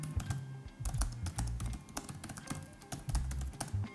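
Rapid typing on the keyboard of an Aorus 15 gaming laptop, steady clattering keystrokes close up with occasional louder taps, continuous for a few seconds with no voices.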